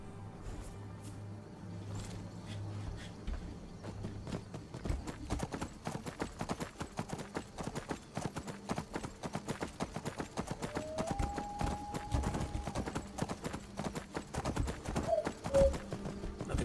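Horse hooves clip-clop steadily as a mount is ridden in the Skyrim video game, a continuous rhythmic trotting close up with occasional game sounds layered over it.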